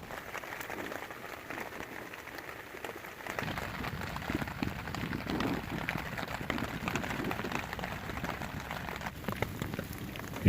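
Rain drums steadily on the fabric of a hot tent with a woodstove, a dense close patter that grows heavier partway through and continues without voices.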